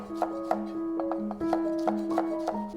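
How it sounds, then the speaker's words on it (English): A knife roughly chops peeled garlic cloves on a cutting board, about a dozen crisp, close knocks in an uneven rhythm, with a faint tonal hum underneath and no talking. "Crush and peel 3 pieces of garlic. Roughly chop."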